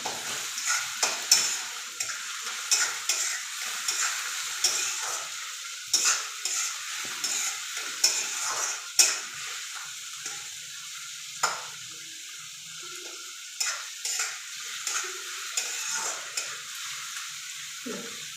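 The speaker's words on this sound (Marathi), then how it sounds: "ते व्यवस्थित स्मॅश करून परतून घ्यायचे." Egg bhurji with onion and tomato, dhaba style, mashed and sautéed in a pan, giving a soft hiss of frying under repeated rhythmic scraping and tapping strokes of a spatula, close by with no talking.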